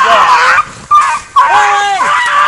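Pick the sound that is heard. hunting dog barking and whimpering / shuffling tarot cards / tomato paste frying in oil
hunting dog barking and whimpering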